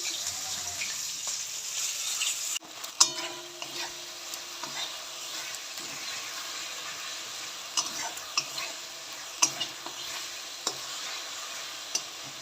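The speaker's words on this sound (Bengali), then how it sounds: "আমি মাছ ভাজা বসিয়ে দিয়েছি দেখো মাছ ভাজা ততক্ষণে হোক" Fish fries in a pan with a continuous bright sizzle of hot oil, the hiss dropping after a sudden clatter, then occasional clicks and scrapes of a spatula with no talking.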